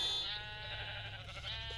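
Sheep bleating in a Minecraft-style video game, a single drawn-out wavering bleat heard close and clear over a steady low background hum.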